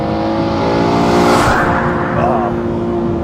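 An Aston Martin One-77 EVO pulls hard on a damp track, its engine roaring loud and close with a rising harmonic drone and some tire noise, while a driver speaks over it.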